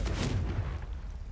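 A fiery Confringo blast spell bursts in Hogwarts Legacy, a muffled low boom with a rumbling tail fading over about a second, loud and close with no talk.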